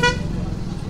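A car horn honks once in busy street traffic, a short loud toot that cuts off quickly over the steady rumble of nearby engines.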